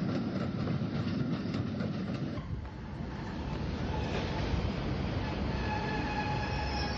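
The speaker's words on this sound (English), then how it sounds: "An electric multiple unit arrives from Hayward's Heath." A Southern Railway electric multiple unit train rumbles in and arrives, a steady loud rolling roar with a brief dip, then sustained wheel and motor noise with faint whining tones as it slows.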